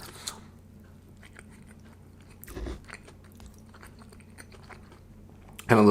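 Someone bites and chews a Taco Bell Naked Chicken taco up close, with soft crunchy bites and moist chewing over quiet room noise, then a short loud sound at the very end.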